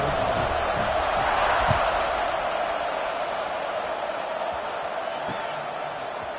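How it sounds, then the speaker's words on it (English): A stadium crowd buzzes at a Notre Dame vs. Cincinnati college football game after a score, a dense continuous roar of many voices at steady loudness with a few faint thuds beneath. "this crowd is buzzing after that last score"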